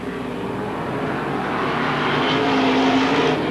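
Modified race cars run laps on the Merrittville oval on a 1988 opening night, with a steady, loud, distant engine roar and a rising whine from one car passing nearer.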